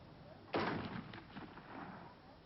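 A single loud shot from a black powder muzzle-loading percussion-cap rifle, sharp and booming, followed by a short fading echo outdoors.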